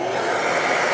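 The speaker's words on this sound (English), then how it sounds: "All right, going to turn the vacuum on." A shop vacuum dust extractor hooked to a DeWalt router dust collector runs in a loud, steady whooshing roar, close by, with no talking.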